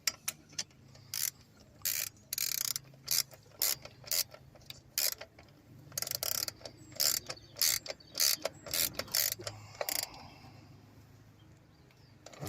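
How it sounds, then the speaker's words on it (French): A ratchet wrench tightens an ignition coil bolt on a Seat Leon, giving a close series of sharp metallic clicking strokes in uneven bursts over a low background hum. "vous l'engagez à la main et vous finissez à la clé"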